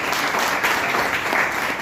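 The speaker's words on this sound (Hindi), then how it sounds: "इनके लिए जोरदार ताली होनी चाहिए।" A brief burst of audience applause at a stage event, dense and steady clapping heard up close without any voices on top.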